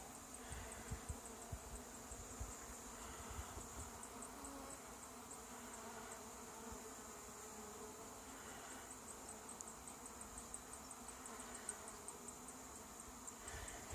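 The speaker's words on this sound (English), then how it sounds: "I hope you can see the bees just buzzing around there on camera" Honey bees buzz softly around a newly installed nuc hive outdoors, a faint continuous drone of many insects with no voices.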